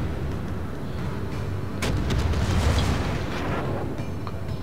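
Secondary guns of the Gascogne battleship fire in World of Warships, a dense rumbling barrage with several sharp blasts clustered near the middle over constant loud battle noise, with no talking.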